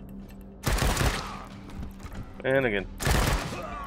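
Gunfire from the Wasteland 3 video game: a few loud bursts of shots separated by short pauses, mixed with game effects, while a person talks over the action.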